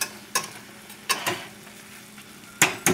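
Ground beef and vegetables cooking in a pan give a low steady sizzle, interrupted by three or four sharp spatula scrapes and knocks against the pan at irregular intervals.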